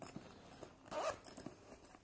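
A zipper on a Transformers bag is pulled in one quick, close, clear zip near the middle, with faint handling rustles around it and no talking.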